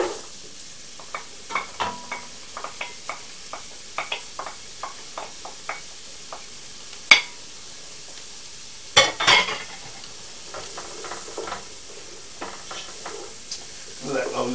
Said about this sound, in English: fry for a few minutes. Let the onions go a little translucent.